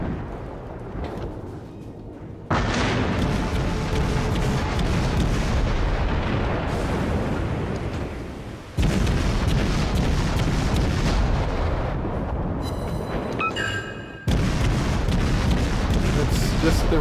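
World of Warships naval combat with a warship's main guns firing in heavy, booming volleys, loud rumbling blasts that cut out and resume in sections, with a voice speaking between the salvos.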